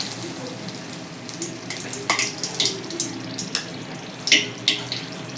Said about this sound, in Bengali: তেল গরম হয়ে গেছে দুটো তেজপাতা একটা শুকনো লঙ্কা